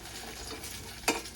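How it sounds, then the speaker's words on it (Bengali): Chhana kofta fry in hot oil with a low continuous sizzle as they are lifted out, ending in one sharp metal clink of a utensil against the pan. "সব কটাই ভাজা হয়ে গেছে এবার বাকিগুলো তুলে নেওয়া হয়ে গেল"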